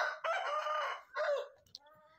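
A chicken gives a drawn-out, loud crowing call, then a shorter squawk followed by softer clucking, close by.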